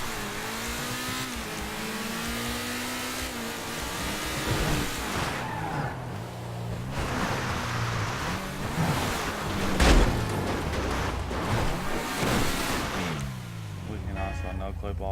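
A car in the Roblox game Alameda County RP drives and revs, its engine pitch repeatedly climbing and dropping, with tire squeals and a bump partway through. A person talks over the engine noise.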